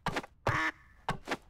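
Three short, nasal duck quacks sound in the Duckside video game, the middle one longer and trailing off, close and distinct against near silence.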